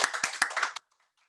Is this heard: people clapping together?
yes